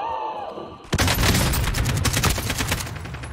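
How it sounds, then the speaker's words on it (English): Rapid, loud gunfire from the video game Call of Duty: Warzone bursts in after a brief lull of softer tonal game sounds, continuing as a dense, sustained volley of close, cracking shots with no one talking. "Get the guy that's shooting him!"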